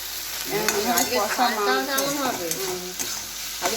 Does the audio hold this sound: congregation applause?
no